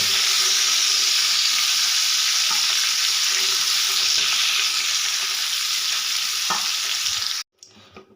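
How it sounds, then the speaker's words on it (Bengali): Cauliflower fries in hot oil with turmeric, giving a loud, continuous close-up sizzle with occasional stirring taps before it abruptly cuts to near silence. "ফুলকপি খুব সুন্দর করে ভেজে নিয়েছি"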